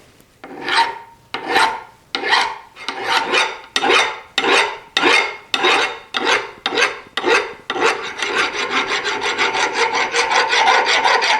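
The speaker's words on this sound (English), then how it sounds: "Finished the filing, got that ridge out of there" A hand file rasps across the cast metal ridge of a 1950s Craftsman adjustable pipe wrench, about a dozen loud, close, evenly spaced strokes that quicken into rapid continuous scraping at the end.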